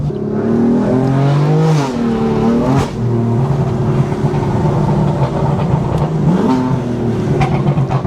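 A BMW M4 Evox's engine revs hard and shifts, its pitch climbing, dropping briefly and rising again as the car accelerates, loud and close with no talking.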